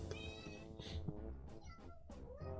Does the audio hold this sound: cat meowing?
yes